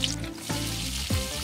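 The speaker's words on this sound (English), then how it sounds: "Put whole garlic. Oh, you hear that sizzle? You hear that?" Whole garlic and cumin seeds sizzle loudly in hot oil in a steady, close frying crackle, with no voices over it.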